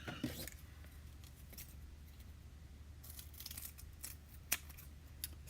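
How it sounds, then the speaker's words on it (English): Scissors cutting paper strips for a handmade retractable lipstick card, a few quiet close snips spread out against a faint hum, with soft rustling between cuts. "I will just cut some more."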